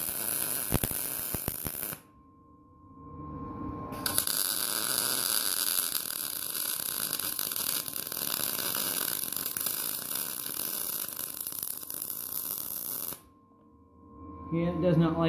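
Welder running a bead over old spot welds on a rusty go-kart frame, a harsh crackling buzz that holds for several seconds between quiet gaps, with a short burst at the end.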